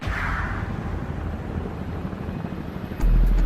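Inside a VH-3 presidential helicopter in flight, a steady low cabin rumble and whine fill the space, swelling louder near the end.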